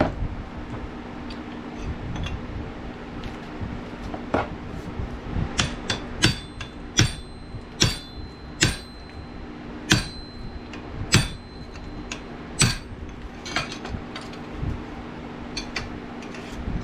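A bigger hammer strikes a metal straw fork under restoration, ringing clanks spaced a second or so apart that build into a steadier run of strikes, over a constant low hum.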